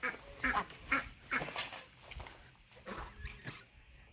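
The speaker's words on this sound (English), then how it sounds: "there's our other duck right there." A duck gives a series of short, raspy quacks at a steady pace, with a few pauses between calls, fairly close by.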